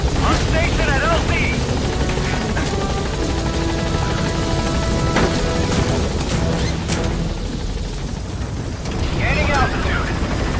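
Support helicopter Pequod arriving at a landing zone in Metal Gear Solid V, a loud continuous rotor roar with game effects and clattering impacts layered over it.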